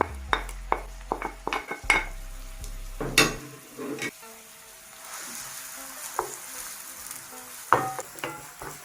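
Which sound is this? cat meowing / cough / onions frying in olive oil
onions frying in olive oil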